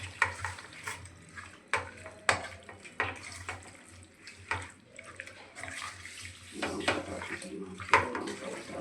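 Green chili paste being mixed by hand into biryani ingredients, giving soft wet squelching and stirring sounds with intermittent clinks, moderately close.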